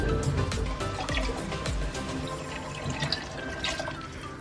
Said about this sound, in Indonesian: Setelah dituang ke wadah yang lebih besar bumbunya, lalu kalian tambahkan air.